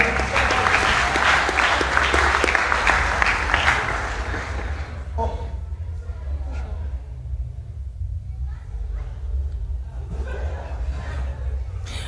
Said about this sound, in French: J'invite le dernier couple, la dernière personne, Maud et Christian, qu'on peut également acclamer